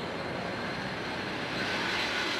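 A jet plane on its landing approach to Hong Kong gives a steady, loud engine roar that fills the whole stretch and swells slightly toward the end, with no voices over it.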